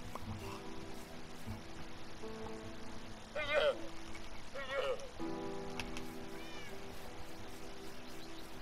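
A cat gives two short meows a second apart, fairly faint, over a steady hum and electronic music from a boat-themed video game.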